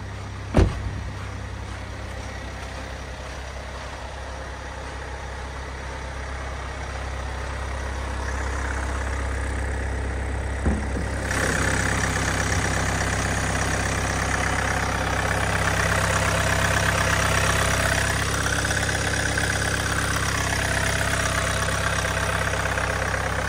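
A car engine idles steadily up close, a continuous low hum with a slight rise in level partway through and no voices.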